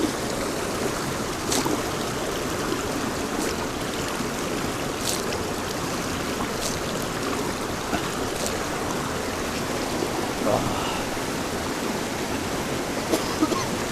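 Fast-flowing Narayan Ganga river in Chamoli, Uttarakhand, rushing over stones: a dense, continuous roar of water with occasional brighter splashes, steady and close.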